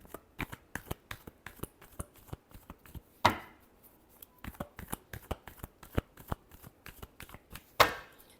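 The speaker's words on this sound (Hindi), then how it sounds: "last shuffle" Tarot cards are shuffled by hand in a rapid series of crisp, close riffling taps, with two louder sweeping riffles standing out, and no voice over them.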